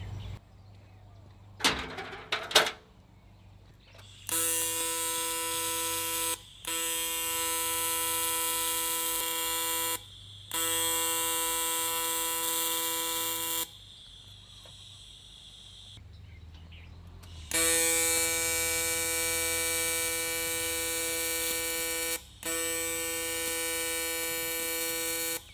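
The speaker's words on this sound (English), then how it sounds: "So welding anodized, you got our little bump switch, set the argon flow, tungsten stick out." TIG welding on anodized aluminum pipe under argon shielding gas produces a steady buzzing electric hum in several bursts of a few seconds each, separated by short pauses, loud and close.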